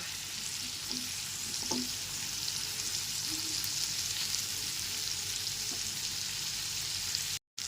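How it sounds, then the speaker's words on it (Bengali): Pumpkin pieces fry in a pan with turmeric powder and salt, giving a steady, dense sizzle. Occasional stirring knocks sound close by. "হলুদ গুঁড়ো আর লবণটা দিয়ে খুব ভালো করে মিশিয়ে কিছুক্ষণ সময় ধরে কুমড়োটাকে ভেজে নেব"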